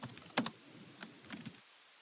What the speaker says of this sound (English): I'm going to type the password in again.